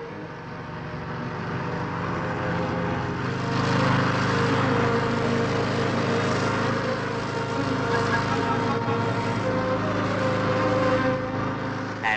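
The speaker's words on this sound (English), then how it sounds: "a fan is switched on to build up an air cushion underneath" The fan of a hovercraft conversion vehicle builds an air cushion underneath, a continuous, loud engine-and-fan drone that swells slightly and holds steady throughout.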